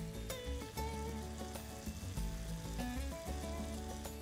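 Finely chopped onions and tomatoes with salt sizzle softly on a tawa for tawa pulao, a quiet, steady frying hiss under louder background music.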